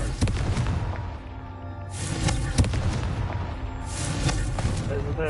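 In Hogwarts Legacy, a Confringo fire spell explodes, with a couple of booming, crackling blasts over game background sounds.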